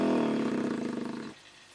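Air rushes through a respirator mask hose with no filter on the end, making a loud, close, roaring drone with a rapid fluttering pulse that cuts off abruptly.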